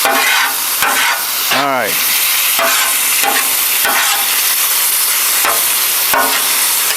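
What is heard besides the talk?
Philly cheesesteak filling sizzling while cooking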